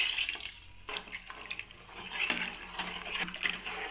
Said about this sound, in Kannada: ಇನ್ನೊಂದು ಸ್ವಲ್ಪ ನೀರು ಹಾಕೊತಾ ಇದ್ದೀನಿ